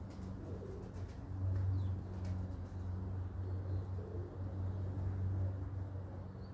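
Soft, low pigeon cooing continues throughout, steady and fairly close, with faint outdoor background noise and no talking.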